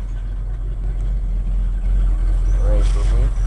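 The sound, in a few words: Ford F100 truck engine starting and idling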